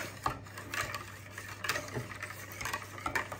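A quiche filling mixture being stirred by hand in a bowl, with repeated scraping and clinking strokes at a steady, uneven rhythm, close and moderately loud under a faint background hum.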